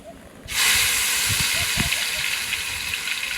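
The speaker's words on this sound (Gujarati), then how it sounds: "હવે નાખીશું આપણે તેલમાં મસાલો, કાંદા, ટમેટા, ધાણા અને આદુ." Masala, onion, tomato, coriander and ginger dropped into hot oil for a fish fry, setting off a sudden loud, steady sizzle that continues hissing to the end.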